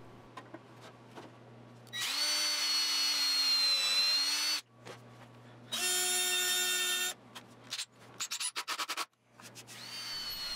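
A drill drives screws into the fence of a table saw crosscut sled in two loud bursts of motor whine, followed by short clicks and bumps of wood handling.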